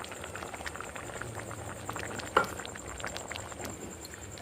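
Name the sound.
vegetarian ghugni boiling in a pot with gram flour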